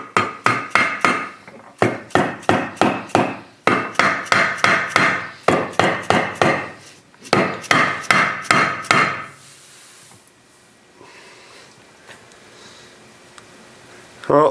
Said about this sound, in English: we're going to go ahead and tap the crank into place